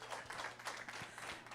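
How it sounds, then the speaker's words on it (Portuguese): Church congregation briefly applauds the children at a worship service, a short burst of faint, scattered hand clapping. "Uma salva de palmas para os nossos pequenos"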